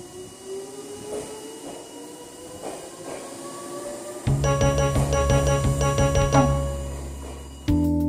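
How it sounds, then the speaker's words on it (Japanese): A Meitetsu train rolls through a station's level crossing. A crossing bell chimes steadily, then a loud, close rumble of wheels and carriages takes over midway and keeps going under the ringing. It ends with a sharp jolt. "構内踏切を通る列車を取れ"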